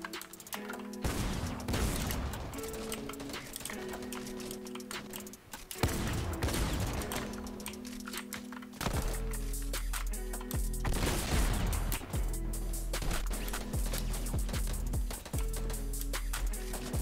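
Dense, continuous gunfire from Fortnite gameplay, with rapid automatic bursts and sharp shots layered over one another for the whole stretch, loud and up close with hardly a break.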